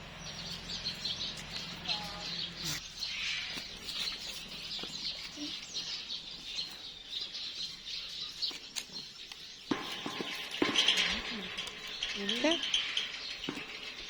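Palm cockatoos calling and chirping from an enclosure at a zoo in Gowa, Makassar, with bird calls and rustling scattered over steady background noise while people talk nearby.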